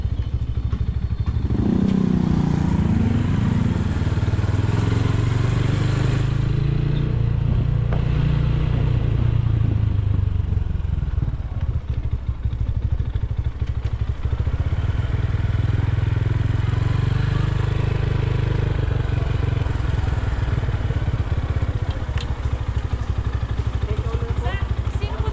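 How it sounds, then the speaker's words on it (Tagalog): A motorcycle engine idles and revs nearby with a steady low rumble and rattling clatter, loud throughout, with no clear talk over it. "Dito yung ating motor."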